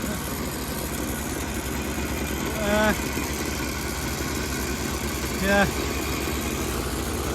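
Several two-stroke engines idle together outdoors, a continuous close buzzing drone, with someone briefly speaking over it twice.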